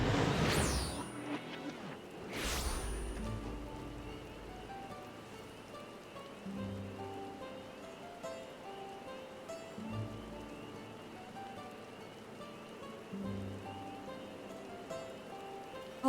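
Steady rainfall pattering on surfaces in the video game Final Fantasy XIV, a continuous soft wash of drops with a few whooshing swells early on and low game tones recurring underneath.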